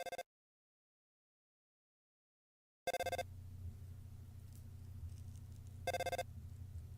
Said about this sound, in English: they instead receive a phone call from Carol.